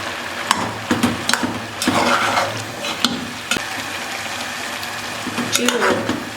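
Grated carrot stir-fried in ghee for gajar halwa, a soft sizzle under repeated scraping and clanking of a spoon against the pan, with a voice talking over it.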